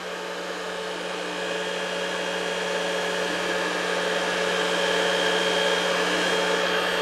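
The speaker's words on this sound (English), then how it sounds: "We're going to do it mostly with the blow dryer" A blow dryer roars steadily up close, a constant whooshing hum with a slight rise in level, no voices.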